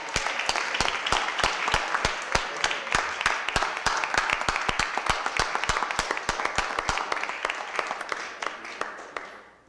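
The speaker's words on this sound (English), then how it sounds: "Let's give him one more big round of applause." Applause for an honoree at a Board of Aldermen meeting, a room full of steady, dense hand clapping that carries on for several seconds before tapering off at the end.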